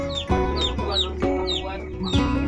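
Chickens cluck busily in a coop, a flock of hens giving repeated short rising calls close by, loud and lively, with a faint voice underneath.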